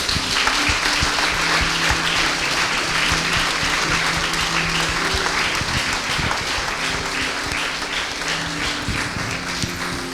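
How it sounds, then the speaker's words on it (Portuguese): A church congregation at a Sunday worship service breaks into loud, sustained applause, a dense wash of clapping that fills the room steadily for about ten seconds without letting up. "Dá uma salva de palmas a Ele."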